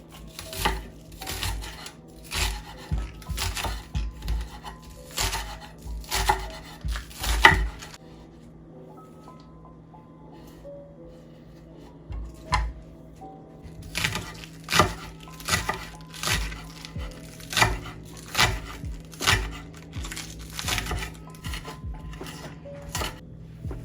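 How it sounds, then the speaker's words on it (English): Knife chopping green onions on a cutting board while making kimchi, a steady run of crisp rhythmic taps that pauses in the middle and then resumes, close and clear. "And now we're gonna cut our green onions."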